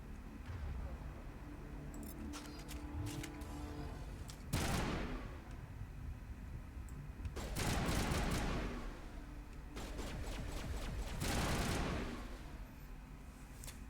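Bursts of gunfire from a Mass Effect firefight, several loud rapid volleys around the middle and end of the stretch, with quieter game ambience between them.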